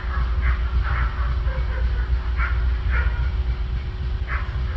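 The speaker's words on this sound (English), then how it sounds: "they immediately started barking again" Several dogs bark in short bursts from a backyard, moderately distant, over a steady low rumble near a railway line.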